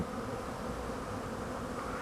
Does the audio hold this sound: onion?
no